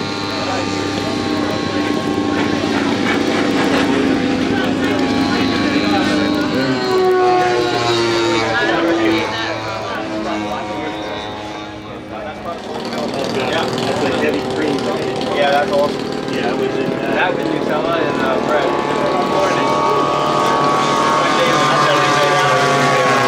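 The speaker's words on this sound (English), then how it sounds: "Looks like the Pitts Python is on short final here for landing" A Pitts Python aerobatic plane at an air fair drones overhead on short final for landing, its engine a steady loud roar with wavering pitch that dips briefly midway, while an announcer talks over the public address.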